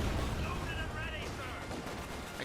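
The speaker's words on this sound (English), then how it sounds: "being shredded here by heavy machine gun fire" Heavy machine gun fire in the World War II strategy game Company of Heroes 2 rattles in dense, continuous bursts mixed with battle noise, while a caster talks over it.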